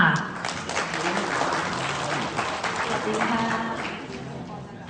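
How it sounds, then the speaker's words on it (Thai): An audience claps warmly to welcome a teacher onto the stage at a sharing event, a full, steady round of applause with voices mixed in beneath it, easing slightly toward the end. "ขอเสียงปรบมือต้อนรับอาจารย์ด้วยค่ะ"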